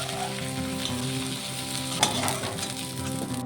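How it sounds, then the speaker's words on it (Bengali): Steady oily sizzling of green plantain slices frying in a pan, continuous and close, with one brief clink partway through. "ওই তেলের মধ্যেই কাঁচকলাটাকে ভেজে নেব"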